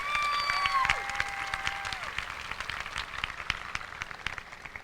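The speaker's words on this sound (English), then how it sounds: "a round of applause" A crowd at a high school graduation ceremony applauding steadily, dense clapping with a few whistles and faint cheers near the start, fading slightly toward the end.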